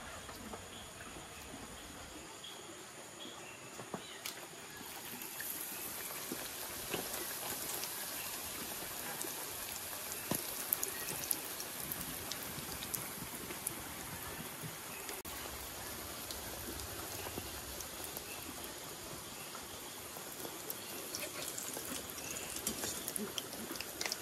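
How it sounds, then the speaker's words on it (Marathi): Heavy monsoon rain falls steadily as a dense, continuous hiss with scattered drops and taps throughout, fairly quiet and unbroken, with no talk. "खूप पाऊस लागता"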